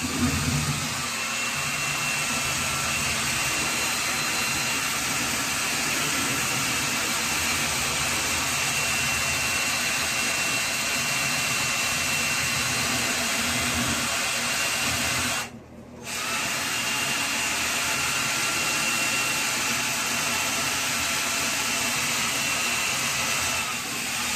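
A power drill fitted with a scrub brush whirs continuously against shower grout, a loud steady whine close by that cuts out briefly once before running on.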